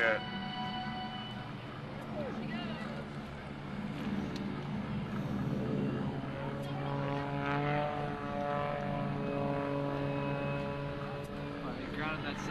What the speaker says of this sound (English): Flying the Goodrich Extra 300S, Patty